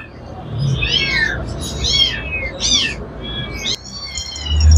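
Cats, including calico and Persian kittens, meow at the Katabon animal market in Bangladesh. Four or five close, rising cries come one after another over a low rumble of market noise.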